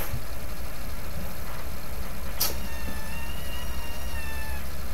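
A cat meows a few times against steady background noise, with drawn-out whining calls; no one speaks.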